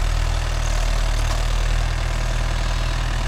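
A Mahindra Yuvo Tech Plus 585 DI 4WD tractor pulls a five-tine cultivator, its diesel engine droning in a steady, heavy low rumble with a faint knock, close and unbroken.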